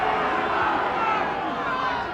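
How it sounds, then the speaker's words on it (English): A steady roar of applause and cheering from a packed rugby stadium crowd during the 1992 New Zealand v World XV test match, continuous and fairly loud throughout. "rightly the crowd gives them a good ovation"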